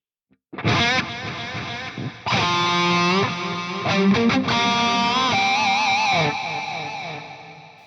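A distorted electric guitar through a Fractal AX8 with PCM70-style delays rings out sustained notes and chords, the tail smeared by echoing repeats that wobble gently in pitch, played alone.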